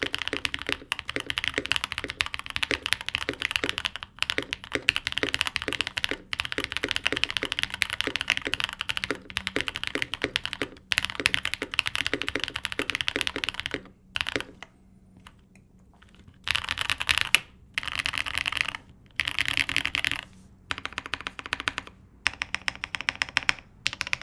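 Mechanical keyboard typing on Innovokey Matcha Latte switches with Drop DCX black-on-white keycaps, stack-mounted with plate foam and a silicone base: dense, steady close-up keystroke clatter with brief pauses and bursts, no talking.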